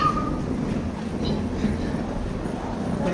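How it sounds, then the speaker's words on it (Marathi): A train rolls past at a station in a steady, loud rumble with rhythmic clattering of wheels over the rails, the station ambience filling the background. "इथे काय ट्रेन बघणं चालू आहे"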